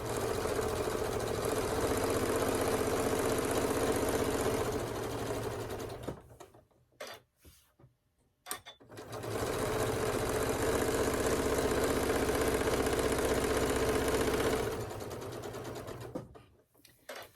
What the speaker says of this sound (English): And then you're just going to continue to sew.